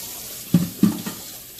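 Running tap water splashes into a sink, with two short knocks as boiled beef is washed under the stream.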